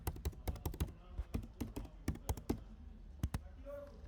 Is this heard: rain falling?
no